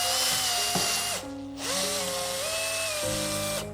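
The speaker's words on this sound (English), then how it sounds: "through the centre, we're going to drill a hole" A power drill whines steadily, pitch shifting as it bites through the centre of a part for a homemade carbon filter, with a brief pause mid-way before the motor spins up again and runs on.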